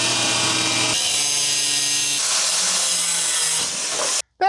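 A loud power tool grinds and cuts through car body metal with a harsh, shrill whine that shifts pitch a few times before cutting off abruptly.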